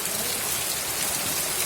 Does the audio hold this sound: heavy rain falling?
yes